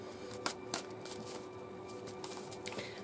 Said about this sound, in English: So let's give a last minute shuffle and choose our first card